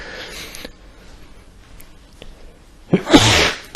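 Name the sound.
sneeze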